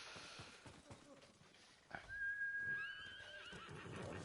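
A horse in a video game lets out a clear, rising then falling whinny after some soft hoof-like clatter, with a voice faintly underneath.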